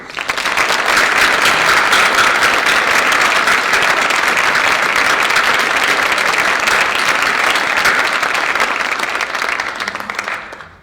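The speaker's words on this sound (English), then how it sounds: "Please give our graduates a huge round of applause." A large audience applauds graduates at a film arts graduation ceremony, with dense, steady clapping that swells and holds for about ten seconds before tapering off.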